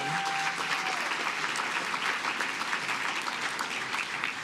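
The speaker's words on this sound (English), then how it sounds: "I think that our hosts tonight deserve a round of applause" Steady, dense applause from an audience at an evening awards ceremony, honoring the hosts; a full room of clapping hands holds at an even, moderately loud level throughout, with no speech over it.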